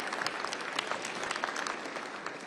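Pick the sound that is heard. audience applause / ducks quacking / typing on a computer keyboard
audience applause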